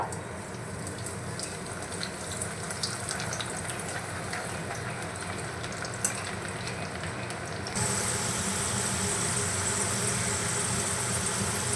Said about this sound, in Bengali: একইভাবে আমি আবারও ভেজে নেব।